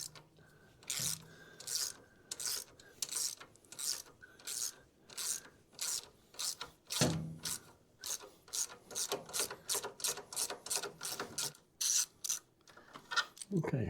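A 1/4 inch ratchet loosening a snug bolt, rapid repeated clicking strokes of the pawl in bursts, close and clear with brief pauses between pulls.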